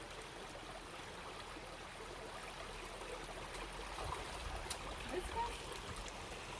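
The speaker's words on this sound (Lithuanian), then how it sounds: "Jisai jį išgirdo vandenį čiurlenantį šitą" A mountain stream in the Czech hills babbles softly and steadily, a faint continuous wash of running water with a few small splashes near the end.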